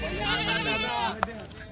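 A Kathiawari goat on a goat farm lets out a long, wavering bleat close by, followed by a brief knock and quiet.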